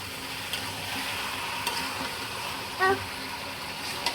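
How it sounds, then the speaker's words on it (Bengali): Potatoes and chicken sautéing with spices in a pan, a continuous loud sizzle with occasional utensil scrapes and one brief tonal beep partway through. "এখন আলু আর মাংস মশলা দিয়ে ভালো করে কষিয়ে নিই।"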